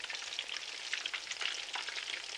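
Steady crackling sizzle of mutton meatballs deep frying in hot oil, a dense bubbling hiss that continues without pause.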